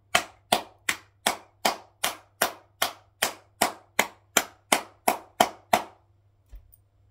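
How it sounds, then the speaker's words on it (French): Slow, deliberate hand clapping, about fifteen sharp claps in a steady rhythm, close and loud, mocking a football defeat of Paris Saint-Germain by Arsenal, then silence. "on va l'applaudir"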